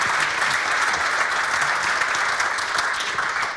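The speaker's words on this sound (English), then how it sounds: "Big round of applause." Dense, loud applause from a lunch audience at a business event in a hotel, a steady wash of many hands clapping close by, holding level before easing slightly at the end.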